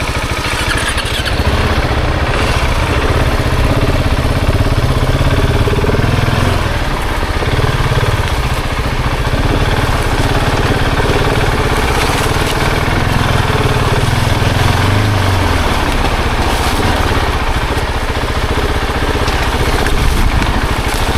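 A KTM 690 motorcycle ridden slowly over tree roots on a country lane, its single-cylinder engine droning loudly and steadily close up, with throttle and clutch shifts across the whole stretch.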